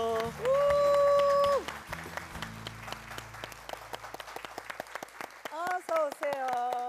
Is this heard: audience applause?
yes